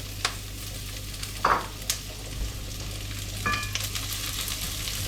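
Onions dropped into a hot pan that already holds leftover meat pieces and fat, with a soft sizzle, a stir or two and a few clinks of a utensil on the pan in a home kitchen.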